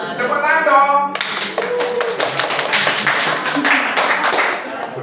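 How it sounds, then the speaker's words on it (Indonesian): Group of people in a church gathering clap their hands together after a brief spoken voice, a rapid uneven burst of nearby claps that continues for about four seconds. "Tepuk tangan dong."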